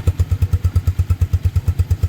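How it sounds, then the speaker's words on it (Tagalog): A classic touring motorcycle's engine runs at a steady idle, with a close, loud and very regular low thumping beat that stays even from start to finish and has nothing else over it. "Tahimik ng ano, tahimik ng makina."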